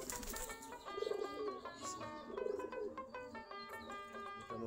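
A group of pigeons cooing in a rooftop loft by flowering plants on an overcast day, repeated low throaty coos recurring in waves beneath a layered, busy background.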